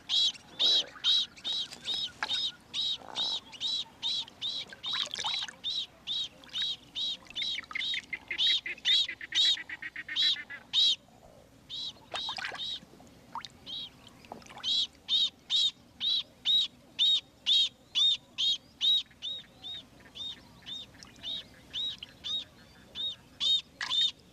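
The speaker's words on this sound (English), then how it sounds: "When the lotus bird glimpses Boloko, the water python, he is ready to defend his nest." A lotus bird (jacana) calls near its nest in an Australian wetland as a water python approaches, giving a long run of rapid, repeated high-pitched piping notes that stay loud and close throughout, with no talking.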